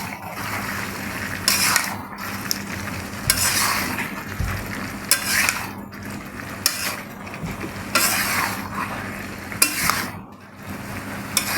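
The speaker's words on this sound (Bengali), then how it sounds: "এখন একটু নাড়াচাড়া দিয়ে ভালো করে মিশিয়ে নিতে হবে।" Potatoes and chicken skin sizzle in a hot pan while a spatula scrapes and stirs them in repeated rhythmic strokes, close and fairly loud, with no talking.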